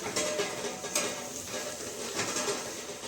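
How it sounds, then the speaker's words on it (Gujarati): A vegetable curry stirred in a pot on a home kitchen stove, the steady sizzle and simmer running throughout with soft scraping of a spoon against metal, fairly quiet and without talk. "મસ્ત મજાનું શાક ચડી ગયું છે જોઈ શકો છો તમે આપણે હલાવી દઈશું એને બરાબર"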